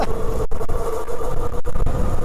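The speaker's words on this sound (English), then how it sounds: "So this is just the front motor," The 2000W front hub motor of a Ridstar Q20 Pro 52V dual-motor electric bike spins on its own, giving a steady, close mechanical whine and hum with small flutters as it picks up speed.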